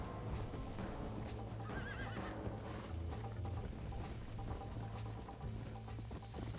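A horse neighs and its hooves clip-clop in Red Dead Redemption on Nintendo Switch, with steady hoofbeats under a short whinny and game ambience, fairly quiet overall.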